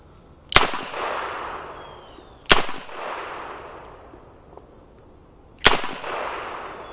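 Three loud, sharp double-action shots from a Smith & Wesson 65-3 .357 Magnum revolver, spaced a couple of seconds apart, each with a short ringing tail and a steady high whine underneath; no talking.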